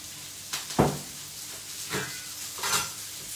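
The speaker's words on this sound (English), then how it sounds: "put the vegetables, the asparagus, and the broccoli. They start to sizzle without even oil." Asparagus and broccoli hit a dry, unoiled pan and sizzle steadily, with a few sharp clinks and scraping stirs at intervals over a soft, continuous hiss.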